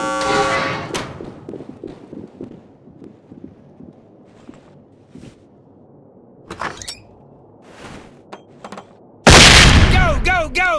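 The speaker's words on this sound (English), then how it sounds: "Deploying a grenade into the doorway will buy your team time to clear the threshold." Flashbang grenade deployed into a doorway in the SWAT 4 video game: door and footstep sounds and scattered bangs under radio-style voices, then a sudden very loud sustained burst near the end.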